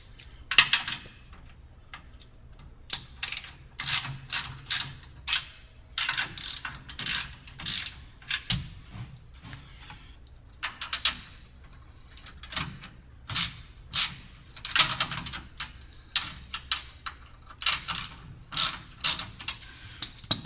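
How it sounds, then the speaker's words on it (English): A ratchet loosens 9/16 bolts on the pillow block bearings of a StairMaster SM916 StepMill, giving repeated bursts of sharp clicking close by, strokes in quick series separated by short pauses. "you need to loosen up the 2 9/16 bolts here and the 2 9/16 bolts below there on the pillow block bearings"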